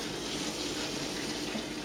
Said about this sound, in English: I'm going to rinse them off a little bit here.